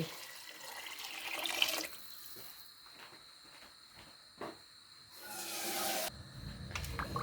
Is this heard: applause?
no